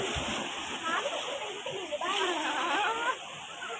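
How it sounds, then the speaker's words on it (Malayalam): Waves slosh and splash around someone standing in the sea, a continuous watery rush with brief surges, while people talk over it. "ഞാൻ ഇറങ്ങുന്ന അന്നേരം വലിയ തിര വരും"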